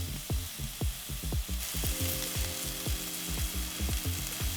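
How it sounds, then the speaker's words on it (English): Mushrooms fry in bacon fat with a splash of olive oil, a steady close sizzle broken by repeated scraping stirs and knocks in the pan, with no talking. "we're just gonna go ahead and add in the mushrooms. They're gonna cook with this bacon fat."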